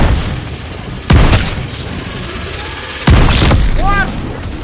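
In Call of Duty: Vanguard Zombies, an explosive revenant goes off, giving two sharp booming blasts about two seconds apart over constant game noise, with a brief chirping squeal after the second.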